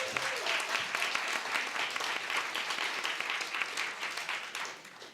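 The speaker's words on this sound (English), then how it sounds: "I want to give him a round of applause too" Audience at a county poetry recitation finals applauds warmly, a full, even wash of many clapping hands that gradually tapers toward the end.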